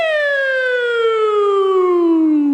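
A voice imitates an old-style police car siren with a single long, smooth descending wail, loud and close, with strong harmonics and no other sound around it.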